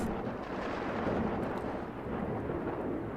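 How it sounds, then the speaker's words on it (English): Thunder from a lightning storm in Cataclysm DDA, a low, sustained rumbling roll that stays fairly quiet and steady throughout. "There is a lightning storm outside."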